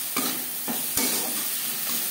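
Spices stirred with tomato and chili in a frying pan, a soft continuous sizzle broken by a few scraping strokes of a spoon, close and quiet with no voices.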